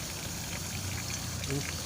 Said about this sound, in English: Water is flowing out from the filter